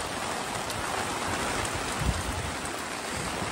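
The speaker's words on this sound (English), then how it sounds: "Ooh, we're getting rained on." Rain falls steadily at a luxury beach resort on St. Lucia, a dense even hiss of drops on surfaces, close and continuous with one brief thump partway through.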